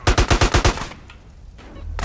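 Rapid automatic gunfire from the video game GTA San Andreas: about six loud, evenly spaced shots in a quick burst, then a quieter tail of distant game ambience and a short closing thud.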